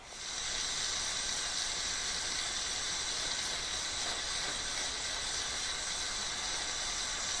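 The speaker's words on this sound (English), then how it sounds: "I'm going to melt some metal in there and see if the metal goes along" Molten metal poured onto a potato sizzles and hisses in a steady, bright rush that starts abruptly and holds for several seconds, fairly loud with no talk.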